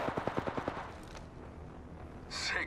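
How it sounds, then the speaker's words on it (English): Gunfire in Apex Legends: a quick burst of about seven sharp automatic shots, then a lull before a brief hissing noise. "Getting shot at."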